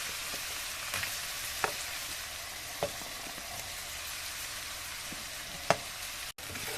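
Tomatoes cook in oil with cumin powder in a pan. A faint, continuous sizzle runs throughout, broken by a few sharp pops and crackles.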